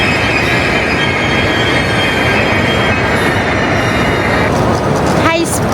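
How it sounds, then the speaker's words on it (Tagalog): Inside a high-speed train in Milan, a steady loud rumble of wheels and cabin noise fills the whole stretch, with a brief squeal near the end. "Ganyan yung sakyan naming train"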